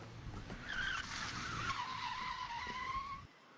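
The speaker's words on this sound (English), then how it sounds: "The first one's just tire screech" Tire screech sound effect for a race start: a single sustained, sliding squeal that rises and then drifts downward for about three seconds before stopping abruptly, heard alone and fairly close.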